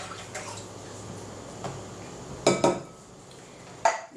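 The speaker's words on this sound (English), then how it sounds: "and pour it into my bowl." Coconut milk poured from a can into a bowl while making cranberry pudding, a soft liquid trickle with sharp clinks of metal against the bowl, heard close up and without talk.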